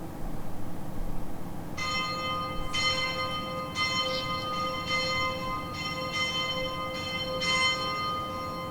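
A church bell at Pluscarden Abbey, a Benedictine monastery in Scotland, rings in repeated strikes about once a second, each stroke carrying a bright ringing tone over a steady low background hum.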